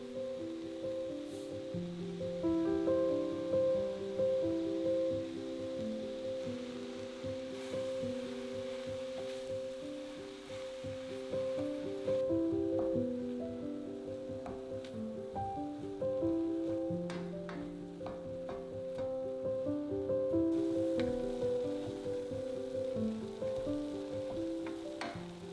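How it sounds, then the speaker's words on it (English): Mushrooms with aromatics, thyme and salt sizzle softly in a saucepan, a steady low crackle of sautéing that continues close and quiet, with a musical tone running beneath. "Add the mushrooms into the saucepan with the aromatics, add a little bit of thyme, salt, and saute until the mushrooms have reduced in size"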